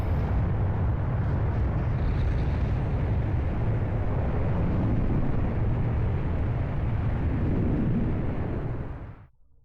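Continuous loud rumbling explosions roar in The Legend of Dragoon, a dense, unbroken barrage of booms and blasts that holds steady for several seconds before cutting off abruptly.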